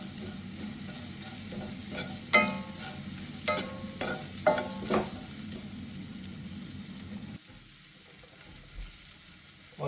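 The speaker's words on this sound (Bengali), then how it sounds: "অল্প আঁচে আস্তে আস্তে করে একটু নাড়াচাড়া করতে হবে।" Eggplant, potato and egg curry stirred slowly in a pan over a low flame, with a steady soft sizzle and several distinct scraping strokes of the spoon in the first half before the frying quiets.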